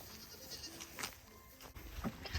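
Farm goats bleat at feeding time as feed is brought in, several short faint bleats from nearby animals over quiet barn background noise.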